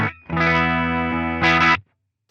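A heavily overdriven electric guitar chord through a Line 6 HX Stomp XL rings out loud and sustained, with a brief restrike near the end before cutting to silence.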